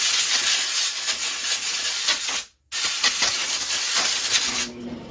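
Compressed air blasting out debris from a Husqvarna T540 MK III chainsaw, a loud steady hiss that cuts off briefly near the middle, then resumes and tapers at the end.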